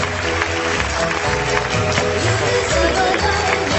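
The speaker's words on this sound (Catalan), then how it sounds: "tres cordes i un fort aplaudiment" A crowd claps together in a dense, steady wash of applause, fairly loud and continuous throughout, at a magic show.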